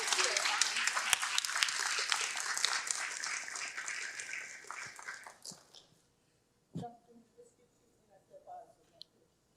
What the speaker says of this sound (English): So please, a round of applause for our team here.